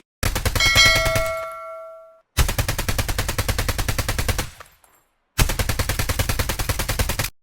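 Three rapid bursts of automatic gunfire from a weapon in the mobile shooter COD Mobile, loud and close. They are separated by short silences, and a ringing tone sounds during the first burst.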